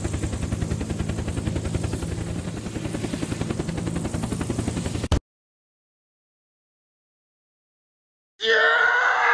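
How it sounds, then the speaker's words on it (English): Helicopter in the Unturned video game coming down onto a base roof, a loud rhythmic rotor chop for about five seconds, then sudden silence before a burst of noise returns at the end. "I will simply land a helicopter on your roof"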